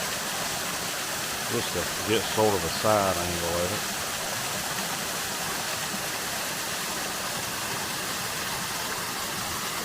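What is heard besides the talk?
waterfall near a hiking trail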